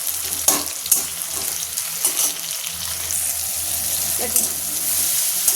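Chopped tomatoes fry and are stirred in a pan, with a close, continuous sizzle and intermittent scraping knocks; a voice speaks briefly.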